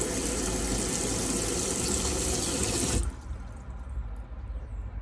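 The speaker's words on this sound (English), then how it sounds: "send power to it by turning the switch on, and then you should be able to get water coming out straight away." Cold fresh water gushes steadily from a tap in a Burstner Aviano i727 motorhome, fed by a submersible pump, loud and continuous for about three seconds before cutting to a quieter low-level hiss.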